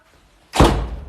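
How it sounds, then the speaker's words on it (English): A house door in Florida thumps shut with a single solid, close thud after a moment of near silence, its low rumble fading over the following half second. "Hold on, let me open the door."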